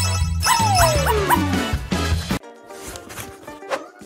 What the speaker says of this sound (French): Oh, c'est un chiot!